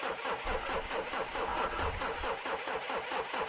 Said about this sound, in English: I walked around to my car and got into the old thing and started up the engine. With the cold and snow, it took a while.